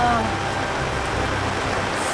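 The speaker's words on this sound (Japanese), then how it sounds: "もうこの雨はやばいわ。" Heavy downpour at a campsite pours in a loud, dense wash of rain noise, steady and close throughout with no break.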